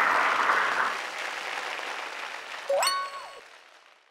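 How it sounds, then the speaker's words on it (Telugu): Studio audience applause on a Telugu comedy TV show breaks out loudly at once, then slowly thins and fades; near the end a brief tonal electronic sound, like a phone tone, cuts across it. "Very good right answer. చప్పట్లు కొట్టండి ఆయన."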